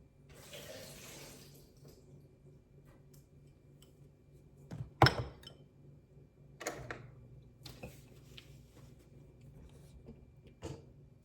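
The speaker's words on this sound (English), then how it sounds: "So I'm gonna drain the water off the butter beans." Water is drained off cooked butter beans in a home kitchen. A soft pouring rush comes first, then scattered metallic clanks and knocks of the pot and sink, quiet and close.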